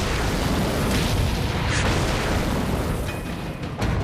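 Secondary explosion of a tank hit by a round in a tank battle on the Golan Heights, blowing the turret off: a sustained, loud, rumbling blast roar filling the whole stretch with no speech.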